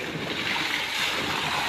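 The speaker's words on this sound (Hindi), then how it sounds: "बिल्कुल फ्रेश पानी आ रहा है इधर से।" Fresh water gushes under strong pressure into an outdoor pool, a continuous close, bright rushing hiss at moderate level without speech.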